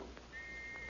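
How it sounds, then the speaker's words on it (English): Police whistles are blown in thick fog during a radio drama, one thin, steady whistle tone sounding faintly and at a distance over a soft wash of background noise. "keeping in touch by blowing their whistles"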